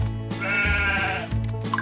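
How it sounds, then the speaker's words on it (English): Cartoon sheep bleat in the PAW Patrol Academy video game, a wavering animated baa heard close and clear over light background music, followed by a second shorter bleat. "Bring these sheep to me, Marshall."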